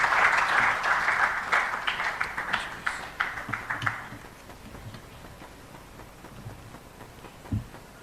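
An audience at a Ghana policy event on waste management and sanitation gives a loud round of applause to welcome a professor, the clapping strong at first, then thinning into scattered claps and fading out.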